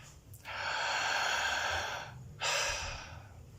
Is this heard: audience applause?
no